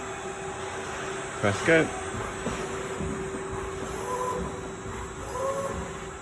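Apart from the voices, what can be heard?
XYZ SMX 4000 CNC milling machine spindle running program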